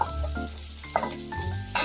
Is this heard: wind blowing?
no